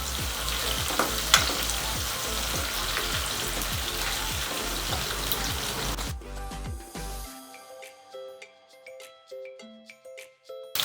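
Onions frying in oil with cumin seeds give a loud, steady sizzle with crackling that cuts off about two thirds through, leaving faint tinkling tones.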